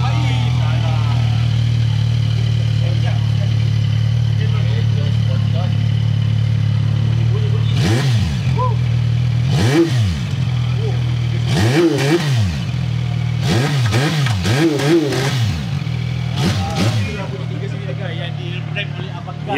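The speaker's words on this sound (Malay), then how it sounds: "itulah bunyi 3 silinder daripada 675 NK CF Moto." A CFMOTO 675NK three-cylinder naked motorcycle revs up in a series of sharp, rising and falling bursts over a steady idle, about six blips clustered in the second half, loud and close.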